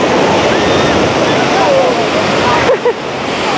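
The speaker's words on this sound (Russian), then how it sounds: "Заходите по бедро, и вас волна накрывает" Stormy sea waves crash on the beach at Anapa with a loud, continuous roar of surf and wind noise on the microphone, and brief voices come through near the end.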